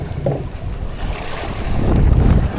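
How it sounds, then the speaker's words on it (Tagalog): Big open-sea waves wash around a small fishing boat, a loud rough rush of water and wind buffeting the microphone, swelling toward the end. "Malaki ang alon dito banda sa bandang laot."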